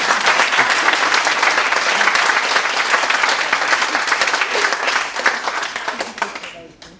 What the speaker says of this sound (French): on a le seul boulot au monde où on se fait applaudir avant